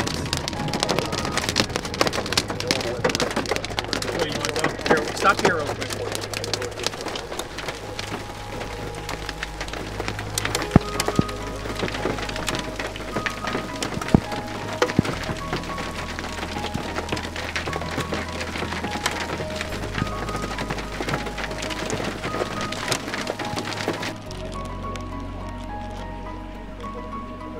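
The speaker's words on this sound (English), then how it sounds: "The storm started to drop its hail core" Hail from a storm's hail core pelting a vehicle, a dense irregular clatter of sharp hits on metal and glass with rain-like hiss, steady and loud until it cuts off near the end; someone speaks briefly over it.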